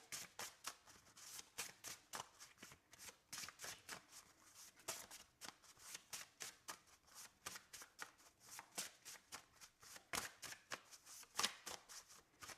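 Tarot cards are shuffled close by in a quiet room, with a steady run of soft riffling and flicking bursts throughout.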